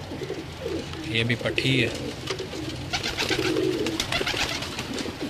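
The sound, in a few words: Salara Teddy pigeons cooing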